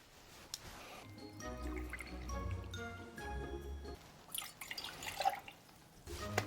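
Cranberry juice poured into cocktail glasses, a soft liquid trickle and splash building in bursts, close and quiet.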